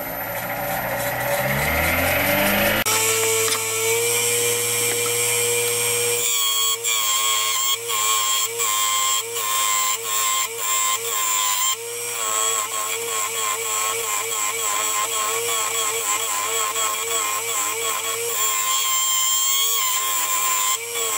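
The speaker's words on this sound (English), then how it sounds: "Just taking the rough corners off on the outside for now, and I'm going to carry on hollowing out the inside now" A wood lathe spins a segmented wooden vessel as a tool trims the rough outer corners and hollows the inside, giving a steady loud whirring hum with rhythmic cutting chatter that carries on throughout.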